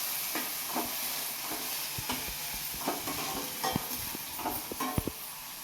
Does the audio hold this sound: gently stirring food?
yes